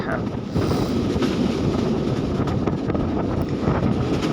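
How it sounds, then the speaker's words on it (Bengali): Strong wind buffets the microphone with a constant low roar on a moving train crossing forest and rice fields, loud and unbroken throughout. "এখানে প্রচণ্ড বাতাস"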